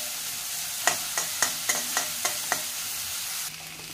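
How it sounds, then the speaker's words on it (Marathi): Finely chopped onion sizzles in a pan while a spoon stirs it in a run of about seven quick, evenly spaced scraping taps. A steady hiss continues after the strokes stop. "आणि आता कांदा बारीक चॉप केलेला चांगला मिक्स करायचा आहे।"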